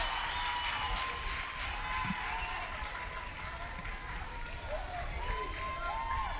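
A crowd cheering at a Florida high school state baseball championship semifinal, a steady, moderately distant roar of voices and applause running throughout, under faint announcer chatter.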